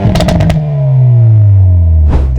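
A 2025 Hyundai i30 N hot hatch engine barks through a few sharp blips, then revs in one long, loud sweep that falls steadily in pitch, before a final burst at the end.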